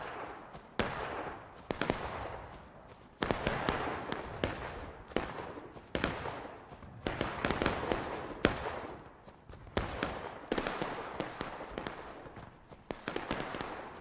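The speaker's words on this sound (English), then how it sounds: "they're shooting at us and missing and going over" Musket and rifle fire from a War of Rights battle crackles continuously, many sharp overlapping shots near and distant forming dense volleys, with brief quieter gaps between bursts.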